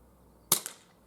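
An ASG CZ Shadow 2 blowback airsoft pistol fires a single close, sharp crack with a quick second snap of the slide cycling, then fades into quiet.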